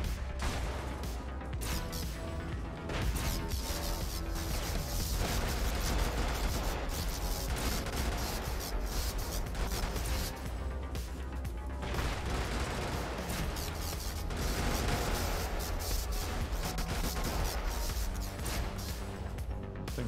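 Rapid, dense weapon fire from a vehicle's laser in the Brigador game, a continuous crackling barrage of overlapping bursts and impacts sustained loudly throughout with brief dips.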